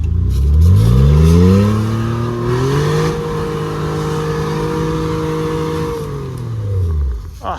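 A lifted off-road truck's engine revs hard in first gear while climbing a rutted rock section, the loud, close engine note rising, holding steady, then falling away.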